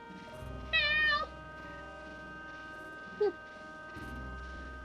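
A pet cat gives one clear, drawn-out meow close to the microphone, followed a couple of seconds later by a short, quieter chirp against a faint background hum.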